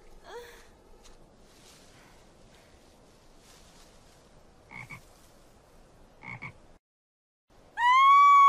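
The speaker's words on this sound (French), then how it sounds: "Je ne peux pas toucher aux grenouilles, ça me dégoûte." A pet frog in a veterinary clinic croaks twice in the middle, two short rough bursts close by over quiet background rustle, and then a loud tonal, voice-like sound rises at the very end.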